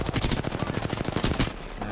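Rapid bursts of automatic gunfire from the Apex Legends video game, a dense rhythmic volley of shots across most of the moment before tapering off near the end, with faint voices underneath.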